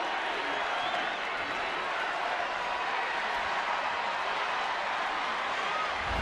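Steady, dense crowd roar with a wash of applause fills a baseball stadium crowd early in a San Francisco home game against Los Angeles, continuous and even throughout, heard from a distance with no distinct voices rising above it.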